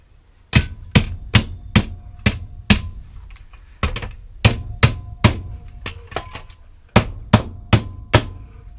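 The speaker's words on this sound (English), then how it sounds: "use your hammer." Hammer blows drive a part into the exhaust of a Yamaha MT01 motorcycle: about sixteen sharp, ringing metal strikes, close and loud, in quick bursts of three to five with short pauses between.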